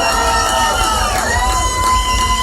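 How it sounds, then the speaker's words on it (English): A crowd at a live rock show cheers and whoops loudly and continuously, with tonal music or feedback ringing underneath. "Listen to the crowd, man."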